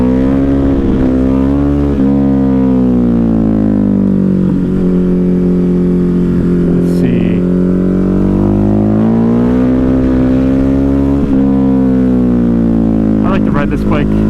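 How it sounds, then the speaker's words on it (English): A Ducati Hypermotard 950 motorcycle engine revs loudly and close in second gear around 6,000 RPM while the bike rides a wheelie on its rear tire out of a turn. The pitch swells and dips continuously throughout. "Ride this bike on the rear tire, come out of a turn, it's a lot of fun."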